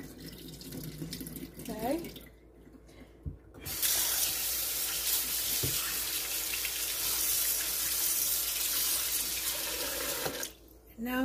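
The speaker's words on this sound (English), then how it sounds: "I'm rinsing it out, getting all the excess blood out of there," Cold tap water runs steadily into a kitchen sink while beef is rinsed for tamales, a loud continuous splashing rush lasting several seconds, preceded by a brief spoken word and some handling noise.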